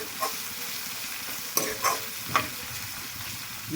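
Ginger garlic paste fries in oil in a pan, sizzling steadily, with a few sharper crackles and spoon scrapes standing out from the constant hiss.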